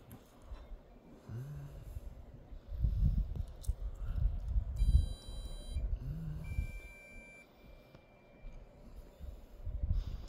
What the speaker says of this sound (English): The gopher traps are making that beeping noise.